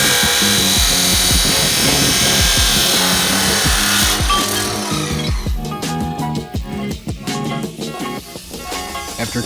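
A metal header pipe for a mini bike with a 212 Predator engine is cut with a loud, continuous rasping saw that becomes more choppy and stroke-like near the end.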